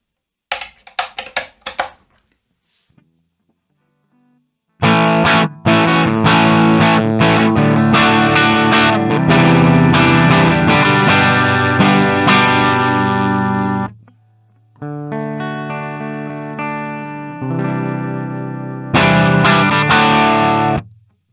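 An electric guitar played through a Mooer GE150 multi-effects unit with a distorted, aggressive tone rings out in sustained strummed chords and held notes, broken by short pauses, loud and alone without talk.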